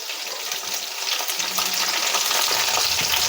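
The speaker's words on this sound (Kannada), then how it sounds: "ಸ್ವಲ್ಪ ಫ್ರೈ ಆಗಲಿ." Black pepper frying in a pan, a steady close, broadband hiss with faint scraping, holding evenly throughout with no voices.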